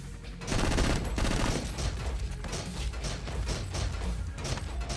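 Heavy gunfire rattles nonstop in the video game MADNESS: Project Nexus, a loud, dense spray of automatic shots mixed with crashing impacts that runs for the whole stretch.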